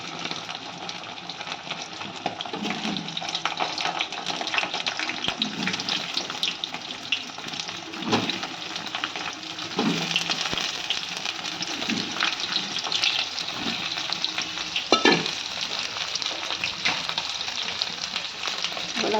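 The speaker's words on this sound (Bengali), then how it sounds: "আমি আলুটা লাল লাল করে ভেজে নেব" Boiled small potatoes frying in hot mustard oil for a Bengali aloo dum, giving a steady, dense sizzle and crackle throughout with faint clinks of utensils, close and moderately loud.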